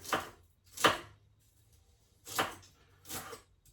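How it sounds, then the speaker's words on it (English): A knife slices seafood salad ingredients on a cutting board in four soft, swishing strokes with pauses between, close and quiet. "Keep on slicing until we get them all done."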